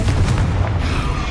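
A Confringo fire spell bursts in the Hogwarts Legacy video game, a short, heavy boom with a sharp crack and low rumble, loud and close, with no talk over it.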